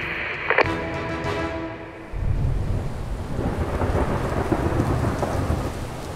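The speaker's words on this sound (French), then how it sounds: "Depuis qu'ils ont repris la mer, c'est la tempête." A storm at sea: a sharp crack of thunder near the start rolls off, then heavy rain and wind roar steadily and loudly for the rest, with no voices.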